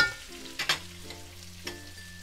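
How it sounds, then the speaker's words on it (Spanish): Garlic frying gently in a pan on low heat for chicken breast in sauce, a soft steady sizzle with a couple of brief stirring scrapes, close and fairly quiet. "tenéis que bajar el fuego para que el ajo no se queme"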